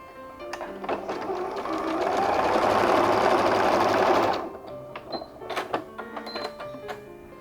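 A sewing machine stitching a small corner of a patchwork square, a loud continuous buzzing run of about three seconds that builds and then stops abruptly, followed by scattered clicks and handling noises.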